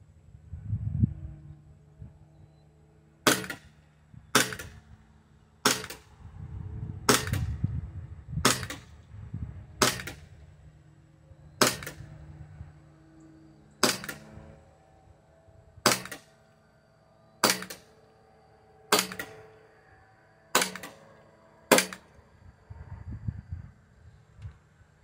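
Elite Force Glock 19 airsoft pistol firing BBs, about fourteen sharp snapping shots at uneven intervals, close and crisp, with soft handling noise between them and no talk.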